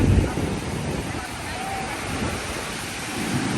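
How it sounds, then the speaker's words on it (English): Waves roll in on Cala Millor's sandy beach in Mallorca on a windy day, a steady rough surf wash with constant wind buffeting the microphone, louder at the start and end. "It's windy today, so the wave is pretty rough."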